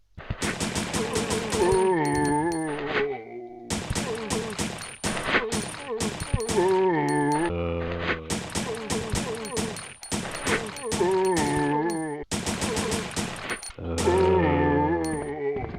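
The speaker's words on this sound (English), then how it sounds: "You could probably use this handgun easily against a boss since it has a ridiculous fire rate." Rapid handgun fire in the Resident Evil Survivor video game, with bursts of quick shots in close succession broken by short pauses, mixed with game music and metallic clangs.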